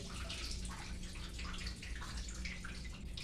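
Water pours steadily into a washing machine, a continuous rushing splash with dripping and gurgling, close and unbroken, with no talking.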